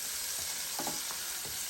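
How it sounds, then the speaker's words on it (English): Salisbury steak patties fry in a Power XL cooker with a constant sizzle of hot fat and a few faint stirring thumps, and no voices. "Let that fry some more."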